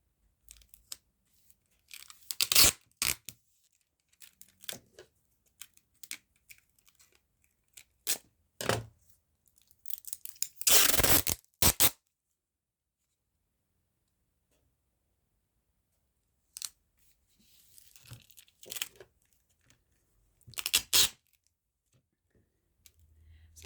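Tape is pulled and torn while a paper patchwork journal cover is made. Scattered short ripping and crinkling bursts sound close up between stretches of near silence.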